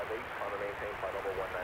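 A fixed-wing airplane near Oakland airport, heard as a steady, unbroken engine roar that holds at an even loudness throughout, with no other sounds standing out.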